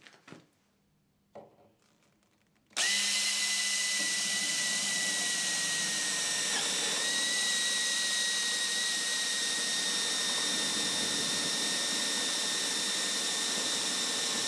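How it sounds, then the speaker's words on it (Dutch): After a few brief knocks, a power drill starts up and whines steadily and loudly while drilling a hole in wood, its pitch dipping briefly partway through. "dan kan ik hier een gaatje boren."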